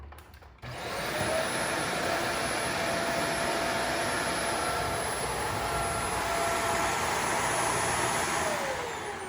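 A Shark Apex vacuum cleaner in hard floor mode starts up after a brief pause and then roars steadily and loudly at close range, its whine holding constant to the end.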